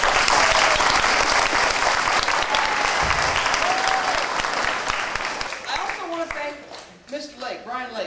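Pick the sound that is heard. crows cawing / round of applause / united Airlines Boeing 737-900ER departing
round of applause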